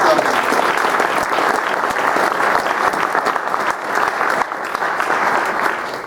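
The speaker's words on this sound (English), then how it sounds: "Let's give them a round of applause" Sustained audience applause at a Vietnam veterans panel discussion, a dense, steady wash of many hands clapping at close range for the full length, with no speech over it.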